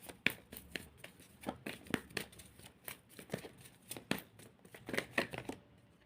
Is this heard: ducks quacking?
no